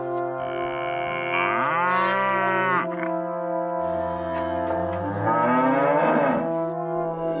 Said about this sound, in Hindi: दूध वाला गौशाला से गाय को चारा लाकर देता है और गाय रंभाने लगती है